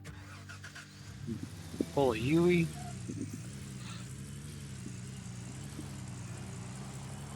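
A truck engine cranks and catches in the video game Gold Rush, then settles into a steady low idle that runs to the end, with a person talking briefly over the start.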